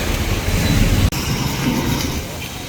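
Heavy rain drums steadily on an auto-rickshaw from inside the cab, a dense, continuous roar with one brief dropout.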